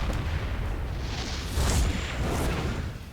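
Siege tanks in StarCraft II fire in a heavy barrage. A continuous roll of deep booms and blasts holds steady and swells briefly midway.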